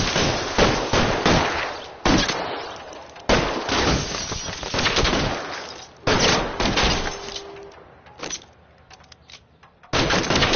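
Dense gunfire from the video game L.A. Noire, with bursts of rapid shots and heavy volleys in quick succession, loud and close, with short lulls and a brief quieter stretch near the end before firing resumes.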